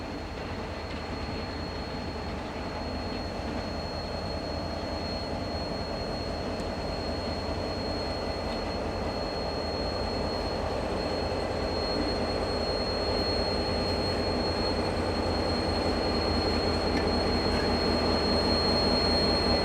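A DFB 7241 diesel locomotive hauls the TranzAlpine passenger train, a continuous heavy engine drone and rolling rumble that builds slightly louder over the stretch, with a faint steady high whine on top.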